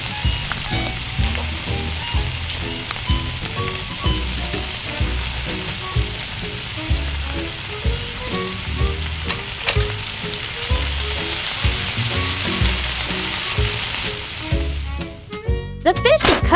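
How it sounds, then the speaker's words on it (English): Octopus sizzles steadily in a miniature pan with oyster sauce, a continuous close crackle and hiss under light background music, ending in a few sharper pops. "Fry until both sides of the octopus are firm."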